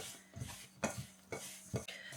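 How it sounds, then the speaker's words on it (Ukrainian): Dough for lazy dumplings mixed first with a fork, then by hand, giving soft rhythmic squelching and tapping strokes repeated close by at a steady pace. "замішуємо спочатку виделкою, потім ручками"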